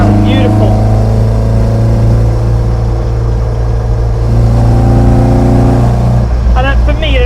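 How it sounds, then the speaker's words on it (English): Induction roar of a 2.0 Ford Escort ST Estate breathing through 40 Webers on individual throttle bodies, a steady throaty engine drone held close throughout, with speech running over it. "All the induction noise, it sounds beautiful."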